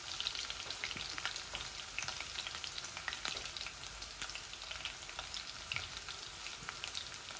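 Garlic cloves frying in a pan until reddish, a quiet continuous sizzle and crackle with scattered pops, heard alone without talk.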